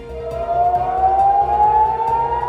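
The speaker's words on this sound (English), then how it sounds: "sirens sounded in Israel, initially among border communities" Air raid sirens in Israel wail continuously after strikes, with a slowly rising pitch, loud and sustained, over a low pulsing background rumble.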